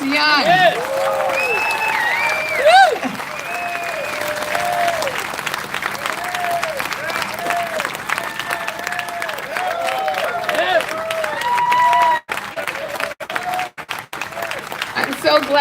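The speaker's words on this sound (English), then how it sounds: "give them all a round of applause" Sustained audience applause for veterans at a Veterans Day ceremony, including a 99-year-old Tuskegee Airman; a large crowd claps steadily and loudly for about twelve seconds, with a voice speaking over it and the clapping thinning out toward the end.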